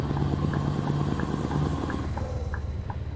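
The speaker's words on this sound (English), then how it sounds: "The exhaust sounds are excellent" A Scania 730 V8 truck in a trucking video game rumbles with a deep, steady exhaust drone, continuous and fairly close throughout, with faint clicks and tones layered over it.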